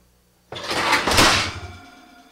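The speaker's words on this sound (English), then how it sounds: "you can't leave the oven door open." An oven door swings shut in a kitchen, a sudden loud scraping thud followed by a rattling rumble that fades over about a second and a half.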